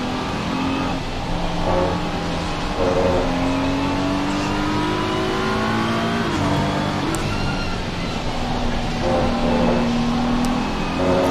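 Honda race car engines in a racing video game at the Spa 24-hour track, a steady loud drone of revving engines rising and falling through gear changes, with cars whining past, continuous throughout.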